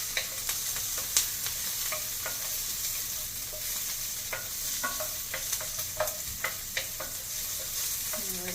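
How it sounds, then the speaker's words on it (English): Onions sautéing in a pan for a curry chickpea quinoa dish, a steady close sizzle with frequent light scrapes and clicks of stirring throughout. "Nothing like the smell of some onions being sauteed."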